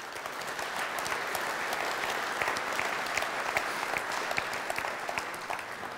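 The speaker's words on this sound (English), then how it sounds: "Applause for Gerhard, please." An audience applauds Gerhard at a SolidCAM GmbH company event, with dense, steady clapping that stays fairly even and continuous throughout.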